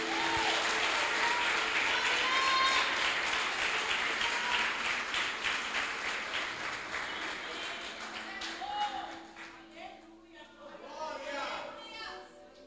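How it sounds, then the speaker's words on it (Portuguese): Congregation at a Portuguese-language church service applauding after a sermon, with loud clapping in the first half that gradually fades, mixed with voices and bits of music, then dropping to quieter scattered sound. "Vamos aplaudir ao Senhor Jesus?"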